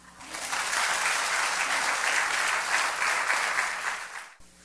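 A congregation at a pastor's lecture bursts into applause, the clapping swelling quickly, holding dense and steady for several seconds, then cutting off abruptly.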